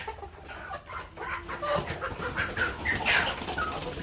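Desi country chickens and roosters on a farm near Shirdi cluck and squawk in overlapping bursts, with a dog audible among them, fairly close and busy throughout, without speech.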